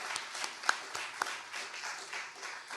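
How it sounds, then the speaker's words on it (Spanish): Audience applause at the inauguration of a national culture and innovation fair, following a danzón performance: faint, fairly distant clapping with a few louder individual claps, and no talking. "Una vez más, el aplauso."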